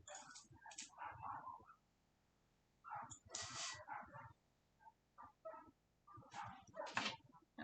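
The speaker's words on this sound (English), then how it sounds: "I'm so sorry about my neighbor's dogs." Several dogs belonging to a neighbor bark in repeated bursts, moderately close, with short pauses between volleys.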